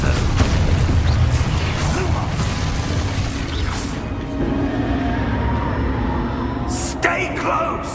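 The Exposo explosion spell in Hogwarts Legacy, part of a busy spell-casting battle with dense booms, whooshes and crashing impacts that run continuously. A sharp burst near the end stands out from the constant clutter.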